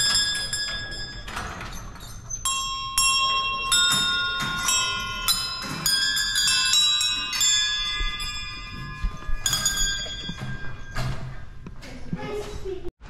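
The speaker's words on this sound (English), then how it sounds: "You wanna ring the bell for peace and liberty?" A bell for peace and liberty at the Shenandoah Museum is struck repeatedly in an uneven series of bright, ringing clangs that linger and overlap, with people talking nearby between the strikes.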